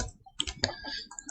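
A handful of quick keystrokes on a computer keyboard, soft close clicks in an uneven rhythm, with no voices.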